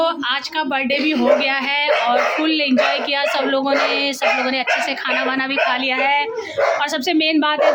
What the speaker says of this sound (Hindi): जो डॉगी बांधा हुआ है वो इतना भौंक रहा है हम लोगों को देख के,